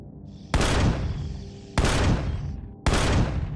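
A sentry gun in the survival game Empyrion Galactic Survival fires three heavy blasts at regular intervals, each one loud and close with a long, rumbling decay.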